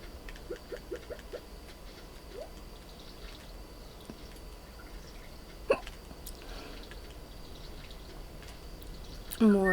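Several short, soft hiccup sounds in quick succession open the clip, followed by sparse faint blips against a quiet background, heard from a Stardew Valley game session.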